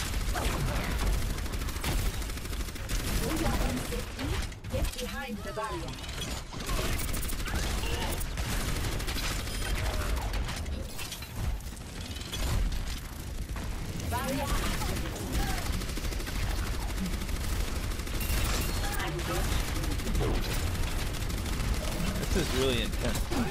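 Dense, continuous gunfire from an online Overwatch match, with rapid weapon bursts and explosive hits filling the whole stretch and faint voices underneath.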